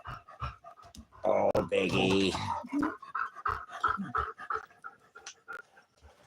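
A dog pants quickly and rhythmically up close outdoors in hot weather, with breathy gasps running throughout while a person talks over it.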